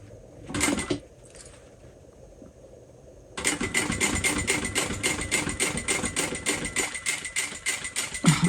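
A sewing machine stitches a seam on a vinyl crossbody bag in a steady, fast mechanical chatter of needle strokes, loud and close, after a few brief isolated bursts and a pause.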